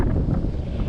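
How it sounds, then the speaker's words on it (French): Strong wind buffets the microphone while riding a bicycle along a wide bike path in the Territoire de Belfort, a continuous rough roar with no voices. "s'ils avaient pu arrêter le vent dans le territoire de Belfort également"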